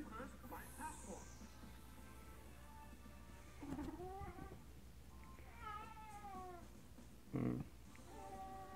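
A house cat meows several times in drawn-out, wavering calls, close by and fairly faint, over a soft background hum.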